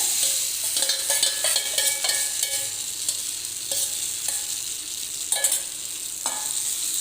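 Gola ruti flatbread fries in an oiled pan with a steady, fairly close sizzle, broken by several short scraping and stirring clatters of a utensil, with no voices.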